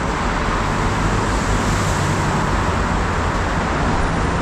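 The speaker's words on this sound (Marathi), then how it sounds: "नुसतं बांगबुंग बांगबुंग गाड्यांचा आवाज येतो." Highway traffic on a wide multi-lane road with service lanes and a bridge, vehicles speeding past at high speed in a dense, continuous roar of tyres and engines, loud and steady throughout with no voices.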